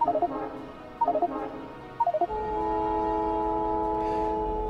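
Trains arrive at stations in the video game Factorio: three quick bursts of chiming tones repeat a second apart, then give way to a steady sustained drone and humming tone.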